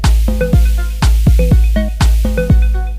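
Layered synthesizers and a drum pattern in an Ableton electronic track: heavy booming kick on steady beats with plucky synth notes between, loud and dense, repeating evenly.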